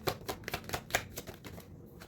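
Tarot cards being shuffled at a pick-a-card reading, a quick run of crisp papery riffles and slaps, close and moderately loud, with no talking.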